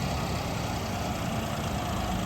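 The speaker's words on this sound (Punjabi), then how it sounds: "ਦੇਖੋ ਪੂਰਾ ਜ਼ੋਰ ਮਾਰਦਾ ਟਰੈਕਟਰ" A tractor engine pulling a 10-foot laser land leveler drones steadily under load, a constant low rumbling roar without breaks.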